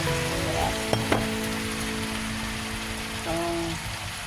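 Squash pieces dropped into a pan of frying pork, giving a steady close sizzle with a couple of sharp clacks near the start, no voices.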